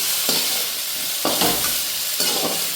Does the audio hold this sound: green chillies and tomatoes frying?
yes